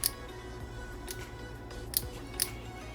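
Beyblade Burst Pro Series Command Dragon top clicking as its parts are locked and turned, four or five sharp, crisp clicks spaced irregularly over a quiet background.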